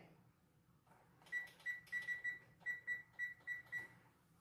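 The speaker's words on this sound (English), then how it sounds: "I start a timer so I don't forget it." Kitchen timer on an oven being set while a meatball casserole is baking at 400 degrees: about a dozen short, clear electronic beeps in an uneven run, close and fairly loud over a quiet room, with no talking.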